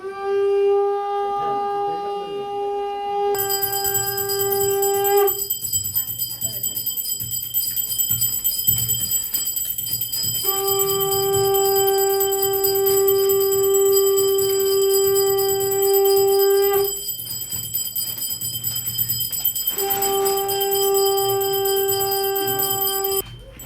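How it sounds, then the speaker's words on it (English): Bells ring out in a steady, sustained chime during a Sai Baba palki bhajan, loud and continuous, with the tone briefly dropping away twice before resuming. "Bells, please."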